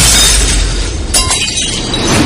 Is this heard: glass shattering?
yes